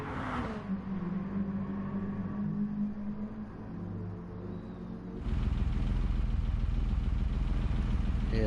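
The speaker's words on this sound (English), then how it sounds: "that's the sound of that 911" A Porsche 911 engine in Gran Turismo Sport historical racing drones as a steady mid-pitched rumble, then jumps to a louder, fuller roar about two-thirds through, with no talk over it.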